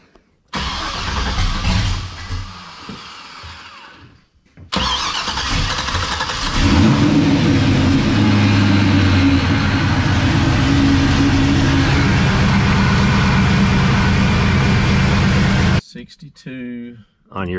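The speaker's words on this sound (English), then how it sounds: "let me just fire it up and let it idle and see what it is idling." A supercharged LSA V8 in a 1972 Monte Carlo cranks and fires, then settles into a loud, rough idle that rumbles steadily before cutting off, with brief noise at the start.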